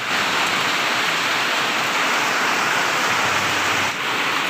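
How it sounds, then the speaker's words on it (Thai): Heavy rain pours down in a constant, loud hiss, a dense unbroken roar with no voices, falling outdoors during charcoal making. "เดี๋ยวผมจะให้ให้ดูฝนนะ ว่าว่าฝนมันแรงขนาดไหน"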